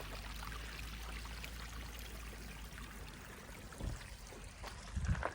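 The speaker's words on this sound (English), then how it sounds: "There's just water flowing down the side right there." Running water streams and trickles steadily down a slope in Grand Teton National Park at a low level, with a few brief splashy bumps near the end.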